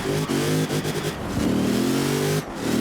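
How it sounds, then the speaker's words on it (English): Supercharged, tuned Ford F-150 Raptor in Forza Horizon 4, its engine revving with a steady whine over a rising tone, loud and close with no talking. "you can hear the supercharger whine like tune"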